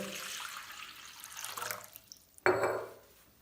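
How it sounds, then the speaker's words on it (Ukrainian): A litre of water poured into a bowl holding a solar panel, a splashy trickle fading out, then a sudden louder gush of pouring that tapers off. "беру миску, кидаю панель, заливаю літрою води"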